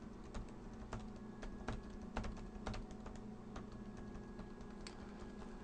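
Steady keystrokes on a computer keyboard, a string of sharp clicks at an irregular rhythm, close and clear over a faint background hum with no talking.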